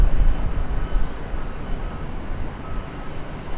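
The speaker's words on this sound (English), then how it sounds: "But these 777s sure do taxi slow, don't they?" A Boeing 777 jet taxiing slowly at Charlotte Douglas International Airport gives a steady, distant low engine rumble and hiss that holds fairly even throughout, with no talk over it.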